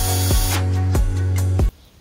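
Power drill driving screws into wood while building a wooden desk, three short loud whirring bursts that each end in a sharp click, then the motor stops.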